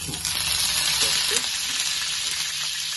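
Curry leaves frying in hot oil on a tawa, a steady bright sizzle and crackle close by with a few soft stirring knocks, continuous throughout, with no talk.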